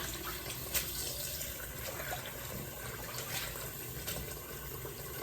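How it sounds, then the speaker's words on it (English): Cold to lukewarm tap water runs steadily into a sink while collard greens are rinsed for the third time, a continuous hissing, splashing stream close by with occasional brief splashes. "And you rinse it in cold to lukewarm water."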